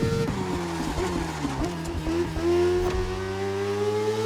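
Suzuki GSX RR motorbike engine in the racing game The Crew Motorfest, a steady droning whine that shifts pitch with throttle changes, with brief gear-change dips, loud and close with no talk.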